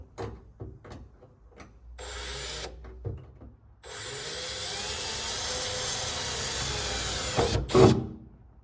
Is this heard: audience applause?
no